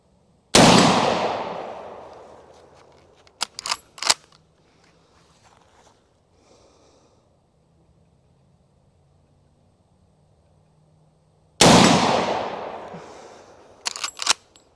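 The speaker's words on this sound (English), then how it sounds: "We're going to give it a couple of shots on these plates." Rifle shots fired at steel target plates about 75 to 80 yards away, two sharp loud reports several seconds apart, each followed by a fading echo and faint distant metallic pings from the plates.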